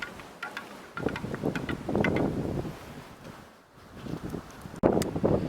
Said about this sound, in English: And you can probably hear that wind.